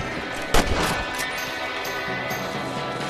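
Rifle shots in Red Dead Redemption, a hunting scene: a sharp crack near 0.6 s, a second around 1.2 s and a fainter one near 1.9 s, each a loud broadband burst over steady game ambience and music.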